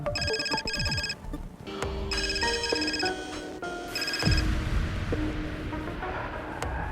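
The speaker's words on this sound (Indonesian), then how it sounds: "Pak Raymond pagi-pagi gini ada telepon ya?" A telephone rings continuously with a bright, repeating electronic melody, fairly close and clear over a low background hum, with no talking.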